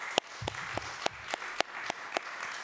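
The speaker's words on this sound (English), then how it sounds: "can I please get a round of applause for Lillian Stolk?" Scattered hand claps from a small crowd, a handful of sharp individual claps spread over a few seconds rather than a full ovation.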